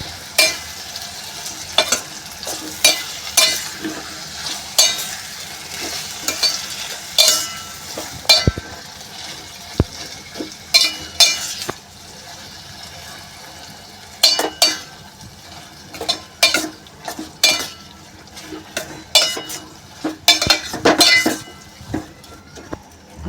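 A spoon stirs raw mango pickle with jaggery in a pan, producing repeated close scraping and clinking strokes in an uneven rhythm over a soft background sizzle, with no talking.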